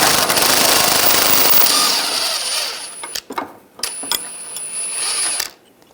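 A bolt on a Dodge Dart front lower control arm is worked loose with an 18mm wrench and socket: a loud mechanical rattle, then sharp separate ratcheting clicks and clanks close by.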